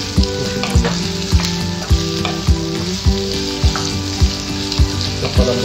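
Plenty of onions fry in a pan with a steady, loud sizzle, while a utensil scrapes and clanks against the pan in an even stirring rhythm about twice a second.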